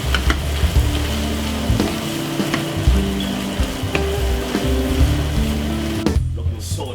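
Butter sizzling in a pan with curry king prawns, making a loud, steady frying hiss with light stirring clinks throughout before the sizzle cuts off near the end.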